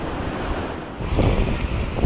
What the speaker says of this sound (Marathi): आता बरीच हवा सुटली आहे